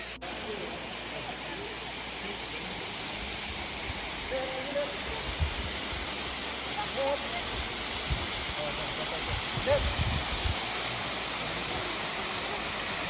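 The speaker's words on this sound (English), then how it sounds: "this is Namaste Falls" Dainthlen Falls in Meghalaya near Cherrapunjee produces a steady, dense rushing roar of falling water that fills the scene continuously at moderate loudness.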